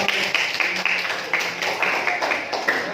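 Junior high students in a classroom at SMP Negeri 3 Belik give a short burst of applause, brisk scattered clapping mixed with murmuring voices.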